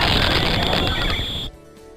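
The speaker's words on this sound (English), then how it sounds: "If you think it sounds much more crackly and distorted than it should, then you're right." Pokémon game cry played back after compression, crackly and distorted: a loud, noisy burst with a harsh high whine for about a second and a half, ending abruptly in a low hiss.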